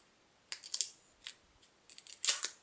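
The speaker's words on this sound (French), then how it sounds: "Et toujours dans le noir, on coupe." Scissors cut photographic film in a darkroom, producing a few sharp, crisp snips close by. Two snips come early, one comes mid-way and a cluster comes at the end, with near silence in between.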